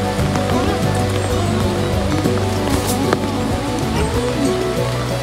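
Rain falls in the Batangas countryside as a steady, fairly loud patter, with a low continuous rumble and scattered sharper drips and knocks mixed in.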